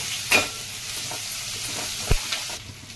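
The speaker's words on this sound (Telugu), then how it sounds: "ఇది బాగా వేయించుకోవాలి." Green chilies and curry leaves with onion frying in oil for a Telugu raw banana masala curry, a steady soft sizzle with a few sharp stirring scrapes and clinks, close and alone with no talk.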